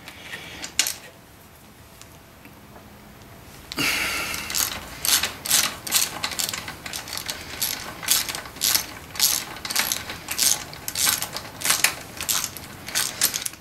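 Hand ratchet working a 17 mm top shock absorber bolt on a dirt bike, a steady run of close, sharp clicking strokes in repeated bursts after a quiet start.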